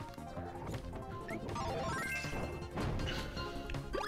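A tree crashes down in the Kirby Triple Deluxe video game, a cartoonish smash and thwack set against busy, bouncy game music and effects, with no talking.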